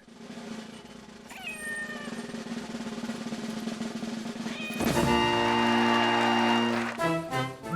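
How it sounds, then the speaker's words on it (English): A cat meows in a movie scene, with drawn-out, wavering cries rising over a busy, loud soundtrack that swells near the end. "A brave cat."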